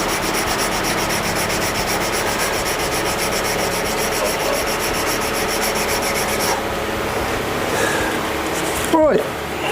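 Steady dry-grit sanding on a shaving brush handle keeps up a continuous close rasping hiss for most of the stretch, then eases off near the end where a brief clatter is heard.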